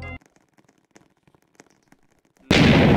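A bomb goes off in a Roblox game: faint scattered clicks and blips, then a sudden loud, roaring blast that fills the final half second.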